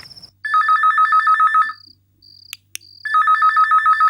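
An electronic phone ringtone trills in two long bursts with a pause between, loud and close, with faint clicks in the gap.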